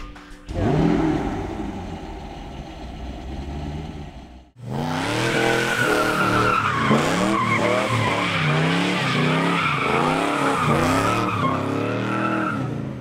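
A Pratt & Miller C6RS race car engine fires up and roars loudly, then tires squeal and skid in a long burnout with the engine revving hard throughout.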